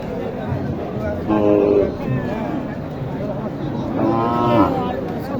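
Cattle at Mataji Haat, a village cattle market in Naogaon where small bull calves are sold, low twice in loud, drawn-out moos, one early and one later, over steady background chatter and someone talking.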